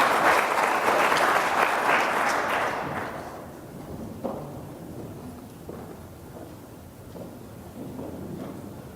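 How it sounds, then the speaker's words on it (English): An audience at a workshop finale applauds the participants with loud, full clapping that fades out after about three seconds, leaving a quiet room with a few scattered thumps and faint murmuring. "So if you have a big round of applause for the participants, showcase their constitution"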